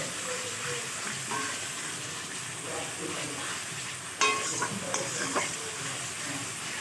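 Water is poured into a sizzling mustard and poppy seed spice paste in a pan for a tilapia curry. A steady low hiss surges briefly into sharper crackling sizzle partway through.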